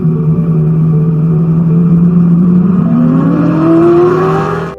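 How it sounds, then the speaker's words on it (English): A car in motion hums with a loud, steady engine drone whose pitch holds and then climbs smoothly as it accelerates, close and continuous with no voices. "you can hear the background sound effect under that video, indicating that the car is in motion"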